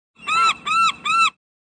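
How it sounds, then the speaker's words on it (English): A gull gives three loud, harsh, evenly spaced calls, close and alone against silence. "Gull."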